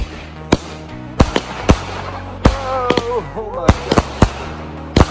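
A Raging Rottweiler consumer firework from a fireworks store goes off outdoors in a rapid series of sharp cracks and pops with some whistling, loud and close, while excited voices talk and exclaim between the bursts.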